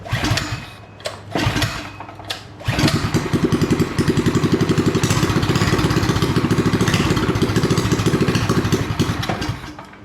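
Swapped 212cc engine on a Coleman minibike that was once sunk, firing up after a few sputters and then running with a loud, steady, close putter that fades slightly at the end.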